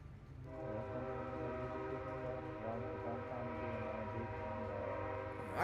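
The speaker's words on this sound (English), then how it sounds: "I can't even hear you because of that train." A train passes near an apartment, a loud sustained rumble with a steady horn-like drone and layered tones that fill the whole stretch, close and continuous without speech over it.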